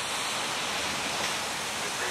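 Heavy, dangerous shore break and high surf at Waimea Bay, heard as a dense, steady roar of crashing water that fills the whole clip without letup.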